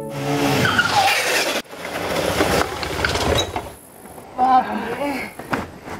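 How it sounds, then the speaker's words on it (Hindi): A motorbike tears along at high speed, its engine roaring loudly with a tyre screech and rushing noise from a dramatised scene. "इतनी तेज बाइक चलाते हैं का?"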